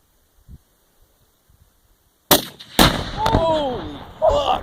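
A 300 Win Mag rifle shot sets off 20 pounds of Tannerite outdoors after a quiet stretch, giving a sharp, loud blast, a second heavy crack and a long rolling rumble, with excited shouts over the tail.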